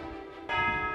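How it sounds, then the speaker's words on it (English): A medieval palace tower bell at the Bargello in Florence rings once midway, a bright sustained toll with long ringing overtones over faint background noise. "the bell rarely tolls during extraordinary events important for the city"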